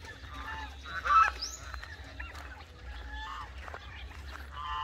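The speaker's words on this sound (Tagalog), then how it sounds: "Ito, mayroon tayong gansa." Geese honk repeatedly at close range on a farm over a low background hum, with other fowl such as turkeys and native chickens calling faintly.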